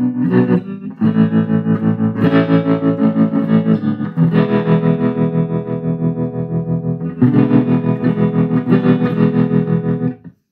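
Electric guitar played through a Joyo DC-15 budget amp, distorted with a pulsing tremolo effect, steady strummed chords wavering in volume throughout, loud and close, no voices.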